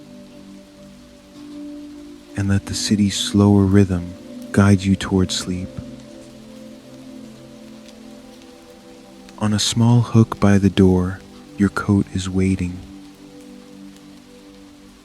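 Steady rain falls through a night in New York City as a soft, continuous hiss, with a calm voice speaking intermittently over it and a faint low hum underneath.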